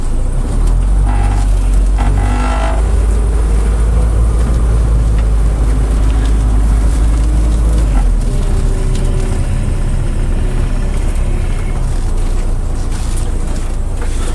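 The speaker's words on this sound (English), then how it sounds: "I'm going to put it in the drive and turn the vehicle around." A 1987 Itasca Phasar RV motorhome is driven and turned around. Its loud engine drones steadily at close range from start to finish, with a few faint clunks and rattles over the rumble.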